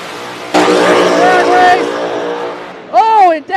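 No-prep drag race cars at National Trail Raceway roar loudly in a sustained, rising launch run, with engine harmonics sweeping upward, then a second sharp rising engine burst near the end; a commentator's voice runs underneath.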